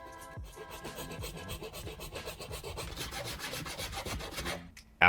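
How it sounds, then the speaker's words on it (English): A hand saw cuts through a plastic piece along a marked line, giving a steady rasping stroke rhythm for about five seconds, close and moderately loud, with no voices. "Then cut along it using a saw."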